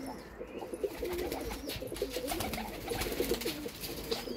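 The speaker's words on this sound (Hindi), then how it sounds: "ठीक है कबूतर सारे ही अच्छे ने" Thunder breed pigeons coo close by, low throaty rolling calls repeating over a background of wing rustles and small chirps, loud and continuous, with no talking.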